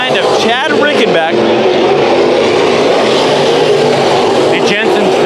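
Sport Modified race cars roaring around Bakersfield Speedway during a night heat race, a loud, continuous engine drone from several cars with an announcer talking over it.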